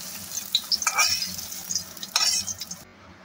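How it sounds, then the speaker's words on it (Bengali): Boal fish fry in oil in a wok, a soft sizzle broken by bursts of scraping and clinks from a spatula as the pieces are lifted out. "আমার ভাজা হয়ে গেছে, এবার আমি তুলে ফেলছি কড়াই থেকে"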